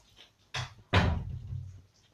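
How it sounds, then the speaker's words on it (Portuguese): A garage door is pulled shut on a rainy day, giving a quiet knock followed by a heavier thud that trails off in a soft rattle. "vou fechar a porta"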